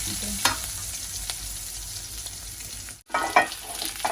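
Onions sizzle steadily in a hot pan, with a few scraping stirs of a spoon breaking through the constant frying hiss.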